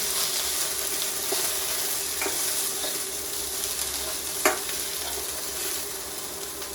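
Okra and onion sizzle steadily in hot oil in a pan for a Kerala okra masala, a continuous even frying hiss with one brief sharp clink partway through, no talking.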